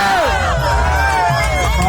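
Crowd at a Thai boxing match cheering and shouting steadily throughout, a dense, loud roar of many voices with rising whoops.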